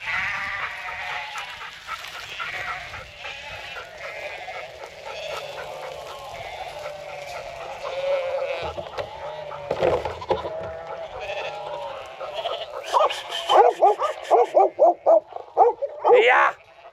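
A flock of sheep with ewes and lambs bleats steadily in a farm yard, and a dog barks in sharp bursts toward the end as people talk briefly nearby.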